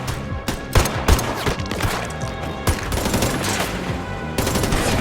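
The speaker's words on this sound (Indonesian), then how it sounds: "dari kejauhan terlihat Im datang melepaskan tembakan menyerang Dodoh." Rapid bursts of automatic gunfire crackle loudly and continuously, with heavier single shots punching through the dense chatter of weapons.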